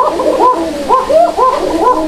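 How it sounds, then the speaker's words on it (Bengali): Sirazi Lahori racer pigeons coo up close in repeated soft rolling bursts, several calls overlapping in quick succession with no talk. "ভিডিও বয় দেখেন কবুতর মতো ডাকতেছে"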